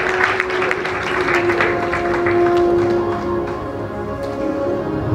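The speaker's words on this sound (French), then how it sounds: "Est-ce qu'on peut aussi applaudir très fort" A crowd at a public event in Kinshasa applauds, a dense steady wash of clapping that holds at full strength throughout, with a sustained tone running under it.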